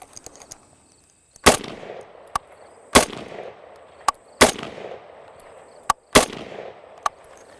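An FAL rifle firing in semi-automatic mode outdoors: about five loud, sharp shots spaced a second or more apart, each followed by a short decaying echo, with fainter cracks in between.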